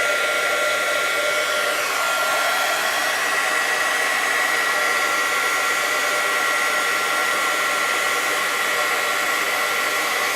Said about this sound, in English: when you hit it with the embossing tool, it melts the teeny tiny little balls of plastic